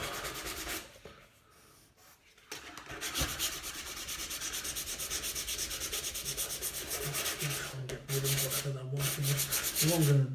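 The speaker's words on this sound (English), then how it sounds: "I'm just using a 180 grit orbital sander disc" An orbital sander fitted with a 180 grit disc runs steadily over wood, a continuous close-up whirring rub that pauses briefly near the start and then carries on without break.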